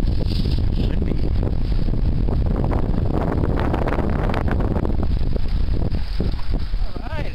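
Strong wind buffets the microphone in a constant roaring rush during a fishing trip, with faint voices briefly under the gusts.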